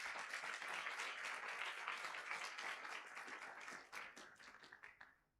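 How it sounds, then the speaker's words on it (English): Lecture-hall audience applauds for a guest speaker: dense, steady clapping from many hands that holds strong for several seconds, then thins out and fades away near the end. "let us give a round of applause to Jeffrey Sachs"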